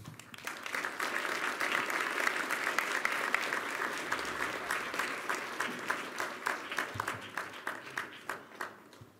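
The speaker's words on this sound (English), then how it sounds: "I think you also heard a warm applause that your call to action was well received." Warm audience applause at Davos after the UN Secretary-General's address, sustained clapping that grows and then thins into separate, rhythmic claps toward the end.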